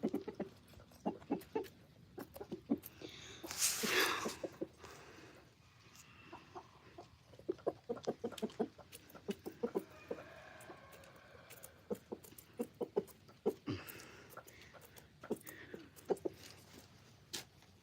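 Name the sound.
chickens and rooster clucking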